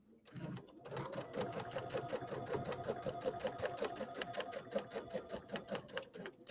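Sewing machine fitted with a walking foot quilting a layered quilt, a fast steady mechanical chatter of stitching that starts abruptly and runs continuously, close and moderately loud.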